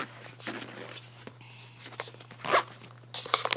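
A bag being zipped shut while packing toiletries for a hospital stay, brief scratchy zipper pulls in short bursts, close and fairly quiet, with small handling rustles around them and no speech.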